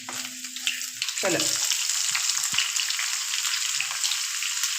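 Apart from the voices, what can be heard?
mushrooms sautéing in a pan for mushroom curry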